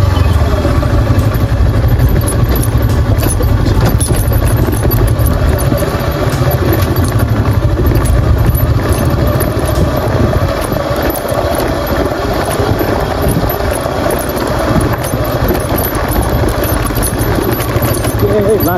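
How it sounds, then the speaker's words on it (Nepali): A motorcycle engine runs continuously on a rough off-road mountain trail in Nepal, with a steady low rumble and rattling, shaking noise throughout, recorded up close from a phone mounted on the bike. "बाइक चाहिँ झम्पट हुन्छ यहाँदेखि"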